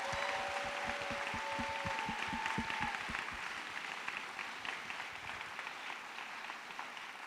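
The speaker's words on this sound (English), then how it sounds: "Let's have a big round of applause for the class of 2019." Audience applause for the incoming class of 2019 at a college first-year assembly, a moderate crowd clapping steadily that holds throughout and gradually thins out.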